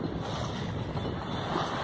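A sailboat clips along through a bouncy sea, with a steady rush of wind and water against the hull and heavy wind buffeting on the microphone, no voices.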